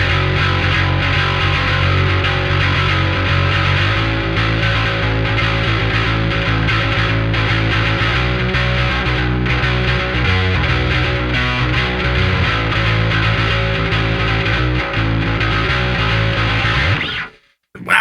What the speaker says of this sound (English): Wow, that's a lot of distortion for a bass, but pretty great sound